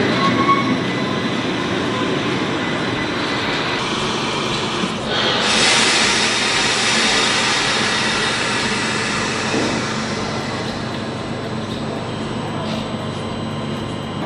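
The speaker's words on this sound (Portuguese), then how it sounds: "a estação de trem bem aqui" Train at a station in Davos, Switzerland, a loud continuous rumble of rolling wagons with a rushing swell midway and faint wheel squeal, heard close by.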